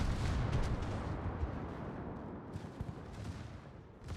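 Heavy naval gunfire from a warship's rear turret firing armor-piercing shells in World of Warships, a dense rolling boom of cannon blasts that stays loud and rumbling throughout, with no voices.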